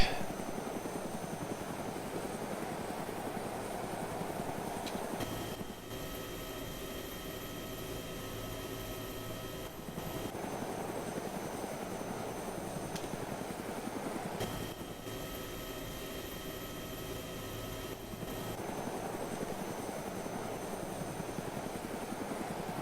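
Steady droning aircraft engine in the video game Epoch, a continuous whirring hum with a constant pulse throughout, moderately loud and alone.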